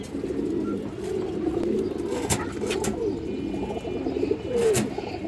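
Chila pigeons in a loft cooing close by, with soft repeated throaty coos and a few sharp clicks or wing taps over a low, steady background.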